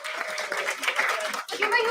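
Audience applause for the winners of a Rangoli competition at a university event, a steady wash of clapping from a crowd with voices mixed in, dipping briefly before resuming.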